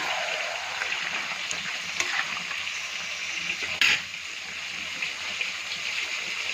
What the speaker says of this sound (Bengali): আলুগুলো দিয়ে কিন্তু আমি হালকা করে একটু কষিয়ে নেব।